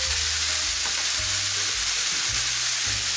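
Ground beef and onion with garlic powder frying in a slow cooker baked beans prep pan, a steady close hiss and crackle with occasional low scraping stirs, no talk.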